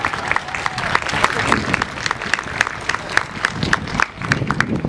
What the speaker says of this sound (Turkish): O yüzden ben de sizi kuvvetle alkışlıyorum.